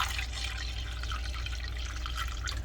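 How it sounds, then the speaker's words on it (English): Vinegar is poured into a saucepan, a faint continuous trickling splash of liquid over a low steady background hum. "Then I'm gonna pour my 2 cups of vinegar"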